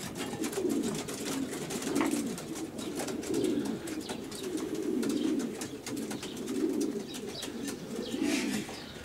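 Racing pigeons coo in a repeated, soft, throaty rhythm of low rolling calls, close and steady over a background of faint clatter, with no talking.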